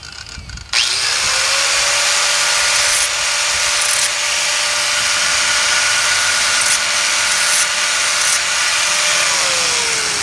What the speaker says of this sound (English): We just want to grind off the piece that's been hit.